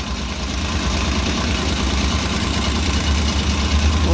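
A car engine idles with a misfire from a disconnected injector plug, giving a loud, close, steady low rumble with uneven vibration throughout, and no voices.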